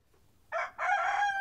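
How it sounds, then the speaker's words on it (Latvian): A rooster crows twice on a poultry farm, a short opening call followed by a longer drawn-out crow, loud and close with no one talking. "Gailis skaļi dzied un agri visus modina."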